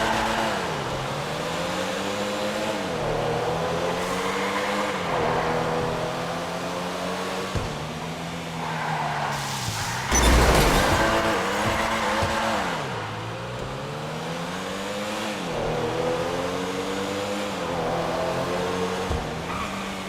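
A Comet S2 sports car in a driving video game, its engine revving up repeatedly through rising gear shifts with a loud burst of roaring noise midway, close and continuous with no talking.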